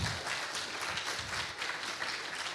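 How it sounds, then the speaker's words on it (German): An audience applauds at a beekeeping talk on nosema, a bee disease. The clapping is dense and steady for about two and a half seconds, with no voices over it. "Einen kleinen Applaus bitte"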